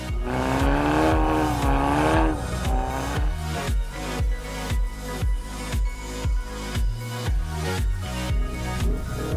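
A Hyundai i30 N on a slippery winter test track revs hard, then settles into a rhythmic pattern of engine surges and lifts, with short bursts of acceleration repeating every half second or so, loud and close.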